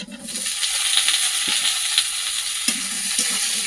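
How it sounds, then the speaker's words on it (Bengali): Onion and garlic sauté in a pan with a steady close sizzle, broken now and then by the scrape and clink of a stirring spoon; no voices. "তারপরে এই পেঁয়াজ রসুনটা ভালো করে কষিয়ে নিয়ে আলুগুলো ঢেলে দেবো"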